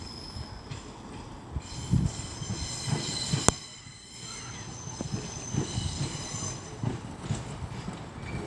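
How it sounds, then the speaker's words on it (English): A West Midlands Railway Class 170 Turbostar, a double pair of diesel units, rolls into a station at Shrewsbury, wheels squealing and rumbling with clattering rail joints and a sharp clank mid-way. "now coming in is a terminating West Midlands Railway Class 170 Turbo Star"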